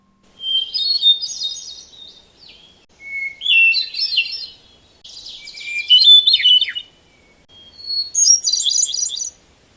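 A hermit thrush sings four separate phrases, each a clear whistle leading into fluting, warbling notes, loud and near with short pauses between.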